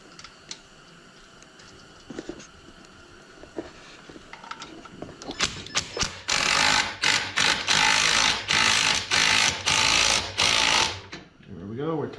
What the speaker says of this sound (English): The impact, start the bolt.